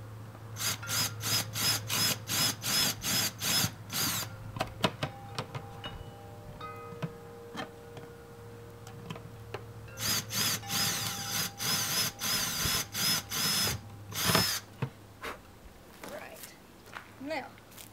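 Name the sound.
power drill widening holes in bucket lid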